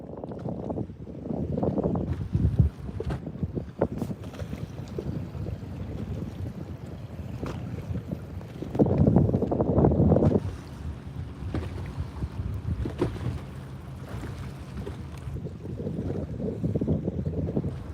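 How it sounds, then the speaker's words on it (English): Loud gusty wind buffeting a boat, a constant rushing roar with stronger bursts and flapping, close to the microphone. "Can you guys hear this wind?"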